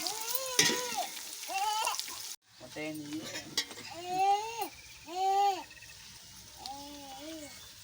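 Onions frying for chicken biryani crackle loudly at first, then the sizzle drops lower while someone talks over it at length.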